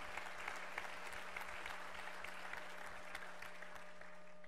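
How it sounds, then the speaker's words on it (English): A church congregation claps in praise during a sermon, a continuous, fairly soft wash of applause heard from a distance over a steady low electrical hum. "give a clap offering of praise to the Lord God"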